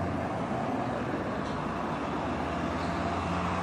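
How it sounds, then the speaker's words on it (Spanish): Car traffic on a road roars steadily and loudly, a dense continuous rumble of passing vehicles with no breaks and no voices over it. "no te alcancé a escuchar muy bien por el ruido de los carros, que es bastante fuerte"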